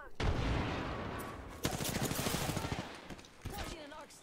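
Rapid automatic gunfire rattles through a shooter video game in dense close bursts, with brief sharp shots and a voice talking over the din.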